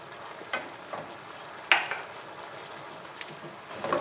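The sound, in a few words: beef and mushroom rice sizzling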